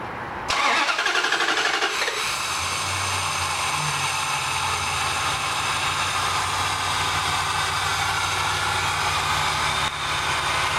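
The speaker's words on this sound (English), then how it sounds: "So now I'm going to go ahead and start it up." A Dodge Dakota pickup with a fault that makes it shut off while driving cranks briefly, catches, and runs at a steady, close idle with a constant hum and hiss.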